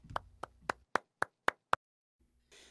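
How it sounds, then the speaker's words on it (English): Seven sparse, slow claps from a few hands at a religious gathering ring out one after another in an even rhythm, close and fairly quiet, followed by near silence and a faint rustle. "Please join me in welcoming him with a big round of applause."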